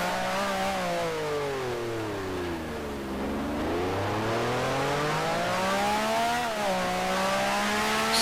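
A 1965 Formula One race car at the Monaco Grand Prix in Grand Prix Legends, its engine droning loud and close, dipping in pitch and then climbing again through a gear shift, with no talking.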